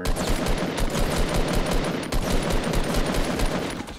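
Rapid, dense gunfire in Fortnite rattles continuously at close range, loud and steady with no pauses, no voices over it.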